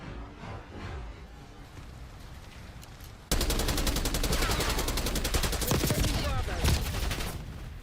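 A quiet game ambience breaks suddenly into a long burst of full-auto gunfire in a video game, rapid and continuous for several seconds at close range, with a few heavier impacts near the end.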